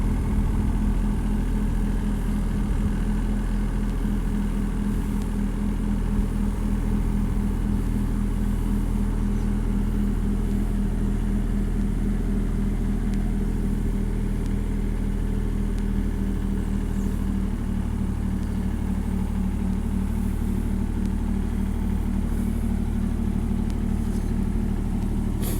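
A tractor engine runs steadily at a working pace outdoors beside a wood pile, a loud continuous low rumble that holds throughout with little variation.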